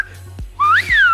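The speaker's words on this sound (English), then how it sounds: "Mexican whistles." A person whistles alone for about a second, with two rising and falling tones close to the microphone and a faint low hum underneath.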